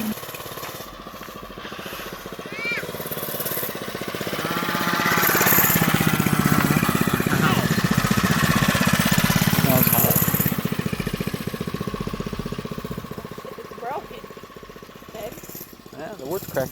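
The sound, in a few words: 1970s Golden Pinto mini bike with 3 horsepower engine running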